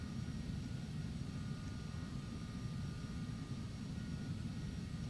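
A steady jet drone of the Carenado Phenom 300 in the Prepar3D flight simulator, a constant low rumble with a faint high whine, unchanging and alone throughout.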